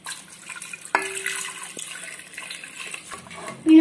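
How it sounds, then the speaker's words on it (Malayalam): Water poured into a cooking pot of beef leg masala seasoned with pepper and salt, a short splashing pour followed by light liquid sounds and a sharp clink near the end, no speech. "പിന്നെ വെള്ളം കുറച്ച് വെള്ളം ഒഴിക്കാം"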